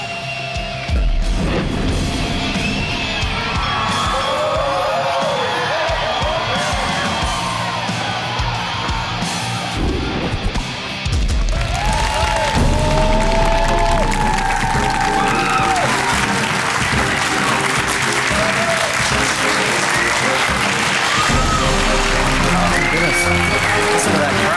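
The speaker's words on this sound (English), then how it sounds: "Listen to that crowd." Live crowd at a Clash of Clans war challenge event in Helsinki, Finland: loud, sustained applause, cheering and whooping from a large audience that swells midway. Talk runs over the crowd noise.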